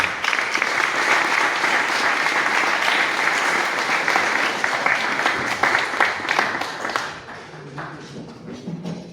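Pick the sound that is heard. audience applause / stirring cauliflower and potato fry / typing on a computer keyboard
audience applause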